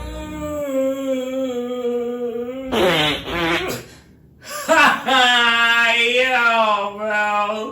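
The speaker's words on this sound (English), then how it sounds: "I'm ready for the longest fart you ever heard in your entire life." A long, drawn-out fart sounds as a steady, buzzing tone, breaks off briefly, then resumes for several more seconds with a wavering pitch, loud and close.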